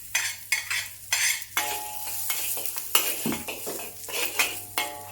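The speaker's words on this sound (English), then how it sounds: "Saute the minced ginger and garlic until aromatic" Minced ginger and garlic sautéing in hot oil in a wok, with repeated utensil scrapes and stirring clatter over a soft sizzle and a low steady hum, no talking.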